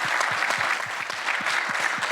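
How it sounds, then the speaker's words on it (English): Audience applause fills a fintech panel event hall, a steady wash of many hands clapping at moderate volume with no voices over it. "A huge round of applause for Spring Labs for putting this together."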